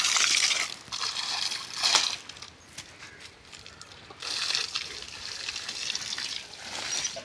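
Water poured from a pot into a bucket at a small patch-work building job, splashing and trickling in two bursts separated by a quieter stretch, fairly close.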